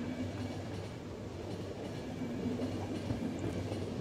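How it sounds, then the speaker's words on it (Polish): A train in the video game The Final Station slows down, a steady low rumble with faint rhythmic rail clatter running throughout, moderately quiet and with no talking. "Pociąg nam spowolnił."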